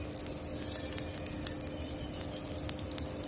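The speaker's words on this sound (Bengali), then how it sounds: "পেঁয়াজটা ভেজে নিব" Onion frying in oil in a pan for a mixed-vegetable dish, a steady, close sizzle and crackle with scattered small pops over a continuous low hiss.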